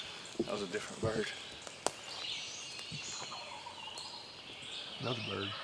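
A distant wild turkey gobbles faintly across open hunting ground. The soft, far-off rattle sits low among outdoor ambience, and quiet voices speak nearby.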